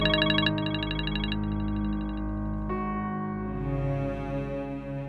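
A phone ringtone plays on and on, a loud melodic tone repeating without being picked up.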